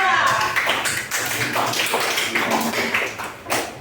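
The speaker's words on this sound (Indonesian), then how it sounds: "Beri tepuk untuk kelompok 2." Classroom applause for a student group, a short burst of many hands clapping together, fairly loud and uneven, lasting a few seconds with a voice briefly heard.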